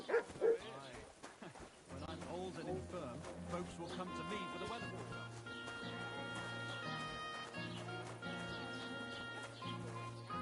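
A dog in Kingdom Come Deliverance 2 gives a couple of sharp, loud barks right at the start, then falls quiet as layered game music swells and carries on steadily.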